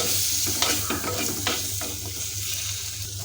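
Chopped tomatoes sautéing for rasam in a pan, with a close steady sizzle and a low hum underneath, punctuated in the first half by several scraping strokes of a spoon, then settling into even frying.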